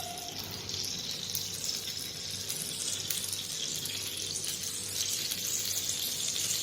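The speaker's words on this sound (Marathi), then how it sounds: "आतली जास्तीची वाफ असते ती तव्यावर पडते आणि सर्र असा आवाज येतो." Steam from a covered bottle-gourd thalipeeth dripping onto a hot griddle, a faint continuous hiss like running water, steady throughout and quiet.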